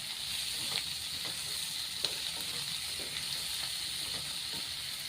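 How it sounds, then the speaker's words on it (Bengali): Onion, garlic, ginger and cashews frying in butter in a pan, giving a steady, close, continuous sizzle with faint stirring clicks throughout and no talking. "বাটারের ওপরে পেঁয়াজ রসুন আদা যে ইয়ে হচ্ছে, ভাজা হচ্ছে, একটু কাজু"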